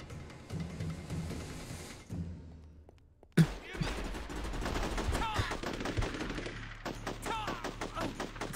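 Gunfire in the video game Unearthed: Trail of Ibn Battuta: scattered sharp shots and rapid bursts ring out over game ambience, growing denser and louder after a sudden loud crack partway through.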